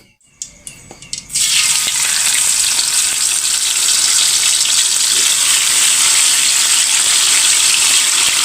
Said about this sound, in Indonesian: tinggal goreng ikan.